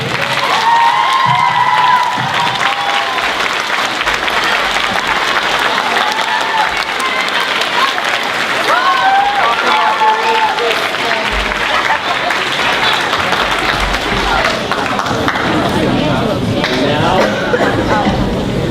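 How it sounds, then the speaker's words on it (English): Standing audience applauds teachers at a ceremony honoring Mona Al-hayani, Ohio Teacher of the Year 2018, a loud sustained ovation of clapping mixed with cheers, whoops and shouting voices that carries on for nearly twenty seconds. "give them a great big round of applause"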